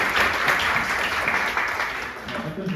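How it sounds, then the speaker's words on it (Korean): Audience applause fills a small conference room at a maritime sovereignty policy forum at the National Assembly Library, a dense, steady wash of clapping that stays even throughout. "큰 박수 부탁드리겠습니다."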